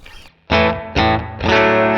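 Clean electric guitar played through a Sonicake Matribox II Pro effects unit, a quiet lead-in followed by three strummed chords ringing out loud and fairly bright, no voices.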